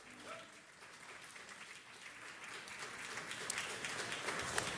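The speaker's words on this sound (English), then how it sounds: "give them a round of applause" Applause at a city council meeting honoring Wings Over Wendy's volunteers, steady clapping from an audience that swells gradually and stays dense throughout.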